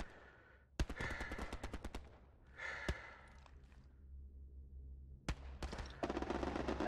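Bursts of machine gun fire in Hell Let Loose video game, rapid evenly spaced shots in two volleys with single sharp reports between, fairly close over a low rumbling background.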